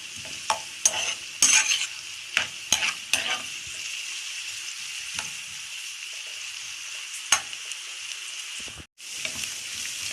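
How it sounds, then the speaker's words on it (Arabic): Chopped onion sautéing in a pan, a continuous close sizzle with the scrape and tap of a spoon stirring at intervals throughout. "شوح البصلايه كده الاول"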